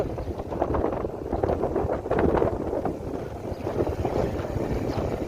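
Steady wind gusts buffet the microphone beside a stream in rural Thailand, a loud continuous rumble that swells and eases without pause, with no voices.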